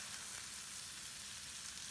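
Maple-seasoned chicken sizzles steadily in a hot cast iron skillet, a loud, continuous hiss and crackle of frying with no talking.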